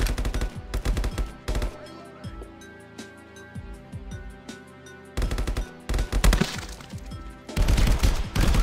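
Rapid bursts of gunfire from the GoldenEye 007 VR mod, with loud automatic volleys at the start and end and scattered shots in between.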